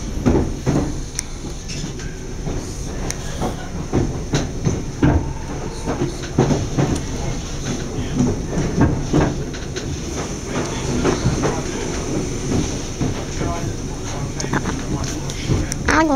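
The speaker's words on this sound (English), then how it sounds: "I'm on a train" Interior of a British Rail Class 313 electric train, unit 313-210, running toward Barnham, with continuous rumbling rolling noise and rattles throughout, wind buffeting the microphone and a person talking over it.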